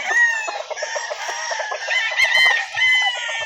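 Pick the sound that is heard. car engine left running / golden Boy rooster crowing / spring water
golden Boy rooster crowing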